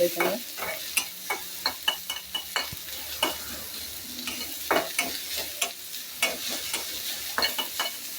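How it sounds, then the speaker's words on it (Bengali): Steady frying sizzle of pangas fish pieces in oil, with repeated scraping and stirring clicks from a utensil in a pan, close up, no voices. "এই যে ভাজা ভাজা হইতেছে"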